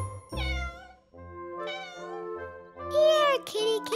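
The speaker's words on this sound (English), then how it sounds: "It does sound like a cat." A cat meows three times up close, the calls drawn out and rising, with a short sharper cry at the end.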